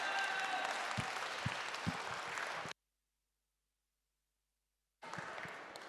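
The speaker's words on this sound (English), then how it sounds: "give yourselves a massive round of applause" Summit audience applauding, a fairly faint wash of clapping with a few sharper individual claps, cut by a stretch of complete silence before the clapping returns briefly.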